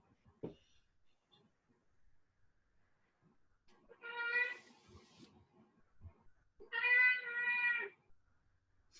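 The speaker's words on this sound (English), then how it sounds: "Your cat's reminding you that she's still there" A house cat gives two clear, drawn-out meows a few seconds apart, close and distinct in an otherwise quiet room, preceded by a couple of faint knocks.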